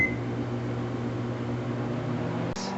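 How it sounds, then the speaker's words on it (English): A microwave oven runs with a steady low hum and airy fan noise, broken near the end by a sharp click as the door or cycle stops. "you want to put them in the microwave for about 15 minutes for this size"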